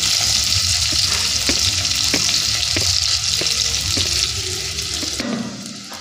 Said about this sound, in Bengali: কিছু কাঁচা লঙ্কা দিয়ে দিচ্ছি,